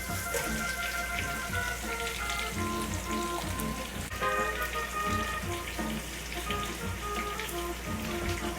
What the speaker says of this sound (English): And then we'll add our julienne onions.